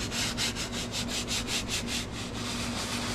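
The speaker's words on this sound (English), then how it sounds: "I'm going to scrub in a back and forth motion here" A leather car seat scrubbed back and forth with Gyeon Leather Cleaner Strong and a brush, giving a rhythmic close swishing rasp, about two strokes per second, even and alone.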